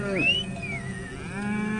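Cattle grazing with Maasai herders in a savanna park give a single long, drawn-out moo that rises and then slowly falls, loud and close, with no talk over it.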